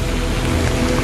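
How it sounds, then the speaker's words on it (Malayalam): Steady heavy rain that has been falling since midday hisses loudly and continuously on surfaces nearby, a dense unbroken wash of sound with no voices. "ഒരു ഉച്ചക്ക് തുടങ്ങിയ മഴയാണ്."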